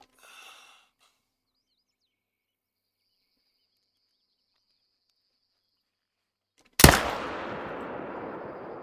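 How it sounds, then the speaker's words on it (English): A single loud rifle gunshot in a hunting video game, fired at an animal about 97 yards away, bursting out after near silence and ringing off in a long decaying echo, with a faint breathy sound at the start. "So we're gonna take it with the rifle"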